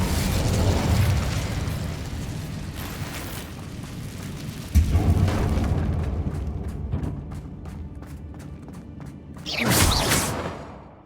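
Incendio fire spell in Hogwarts Legacy: fiery whooshing blasts, with a sudden burst near the middle and another loud flaring surge near the end, over a layer of crackling, rumbling game effects.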